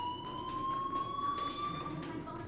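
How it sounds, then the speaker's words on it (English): A fire alarm sounds in the Life is Strange video game, a steady electronic tone that holds on one pitch and rises slightly, with faint background noise beneath it. "do you hear that fire alarm?"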